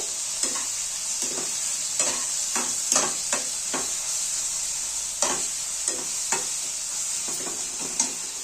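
Chivli leafy greens cooked in oil with turmeric and salt, sizzling steadily in a pan while a spoon scrapes and stirs in repeated sharp strokes, close and alone.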